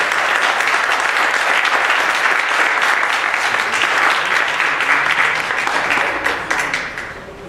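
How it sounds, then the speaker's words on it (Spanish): A conference audience bursts into dense, sustained applause to welcome the first speaker, loud and steady for several seconds before tapering off at the end. "Démosle un fuerte aplauso a nuestro primer ponente"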